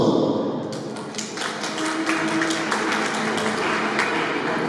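Applause from family and guests at a baptism celebration, a steady wash of clapping with scattered sharp taps that holds fairly loud for the whole stretch, with faint voices mixed in.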